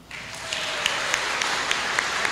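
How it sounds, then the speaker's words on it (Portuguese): Audience applause at a book launch event welcoming the author, a steady wash of clapping with a few louder individual claps standing out, no talk over it. "nós vamos receber a nossa autora com a salva de palmas"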